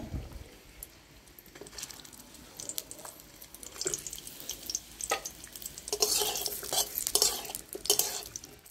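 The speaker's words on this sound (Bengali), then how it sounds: "গরম হয়ে গেছে, এবার আমি পটলগুলো ভেজে তুলে নেব।" Pointed gourds (potol) frying in hot oil in a pan, with a soft sizzle and scraping, clinking stirring strokes that grow louder and busier toward the end.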